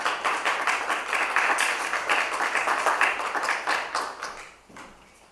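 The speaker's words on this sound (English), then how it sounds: "Please give a round of applause to, it's saying me, but I think it's actually Byrne" Audience applause at a Kansas City Oasis gathering, a dense round of clapping from a room full of people that runs steadily for about five seconds before tapering off near the end.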